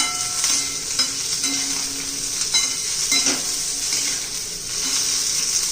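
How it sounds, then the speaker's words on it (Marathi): Green chillies and capsicum are sautéed with potato in a pan, giving a continuous bright sizzle with repeated scraping stirs close up and no voices. "आता हिरवी मिरची, शिमला मिरची चांगली परतून घेणार आहोत आपण याच्याबरोबरच"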